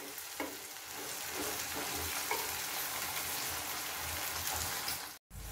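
Peas frying in a pan over a low flame give off a steady, close sizzle with light crackles and faint stirring scrapes, running without pause until a brief dropout near the end.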